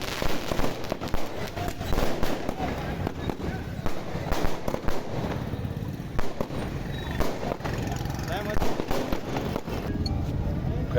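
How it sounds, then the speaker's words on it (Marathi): Firecrackers and fireworks set off by Shiv Sena workers celebrating at a statue of Chhatrapati Shivaji Maharaj in Chopda, Jalgaon, after a ministerial appointment: dense, continuous crackling bursts and pops, loud and sustained, with crowd voices mixed in. "शिवसैनिकांनी छत्रपती शिवाजी महाराज यांच्या पुतळ्याला माल्यार्पण करून फटाक्यांची आतषबाजी करत पेढे भरून कार्यकर्त्यांकडून जल्लोष करण्यात आला"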